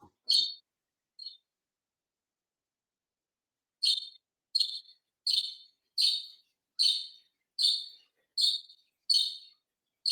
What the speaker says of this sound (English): Oh, you can hear the budgies.